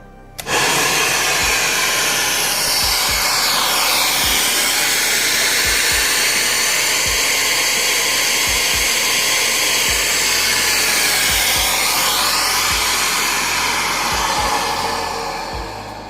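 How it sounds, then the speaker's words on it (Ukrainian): A compressor on a flow bench blows air through a stock Dodge Viper SRT-10 8.3-litre cylinder head intake port at 12.5 mm valve lift: a loud, steady rushing roar starts abruptly and holds before easing off at the end. "Включаємо компресор."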